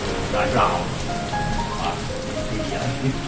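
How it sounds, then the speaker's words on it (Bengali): Heavy rain pours steadily outside, a dense, continuous hiss of drops striking surfaces that fills the whole short stretch at moderate loudness. "আর দেখো এদিকে হচ্ছিল ঝমঝম করে বৃষ্টি।"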